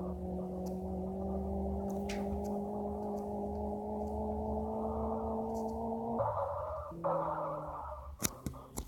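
A car peeling off and accelerating away on the road, its engine a steady, moderately loud drone that climbs gradually, then shifts pitch abruptly twice near the end like gear changes, followed by a few sharp clicks; no one speaks.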